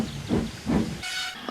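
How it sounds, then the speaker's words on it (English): A cartoon steam engine gives hissing puffs in a two-beat rhythm, then a short, loud, bright steam whistle blast rings out close by. "Thomas was interrupted by a loud whistle"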